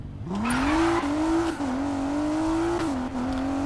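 A car accelerating in the Need for Speed Payback video game, a loud steady engine note climbing in pitch, briefly dipping at gear changes, then holding high, with no talk.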